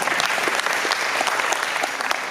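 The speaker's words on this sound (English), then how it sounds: "let's give them another round of applause" Steady, dense applause from a club meeting audience fills the short stretch, loud and even with no break.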